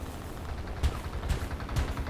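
Ground-based anti-aircraft guns in War Thunder fire a few heavy thumping shots in steady succession over constant engine drone, each a dull low boom with a sharp crack on top.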